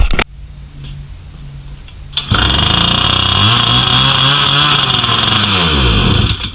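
A used $20 outboard boat motor, just reassembled, starts after about two seconds of quiet and runs loud and close, its revs climbing and falling in a rough buzzing roar.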